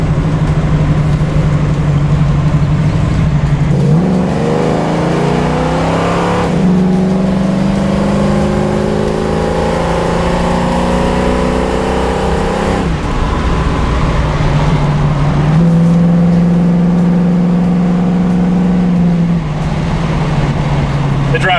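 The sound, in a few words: 1969 Ford Mustang Mach 1 car driving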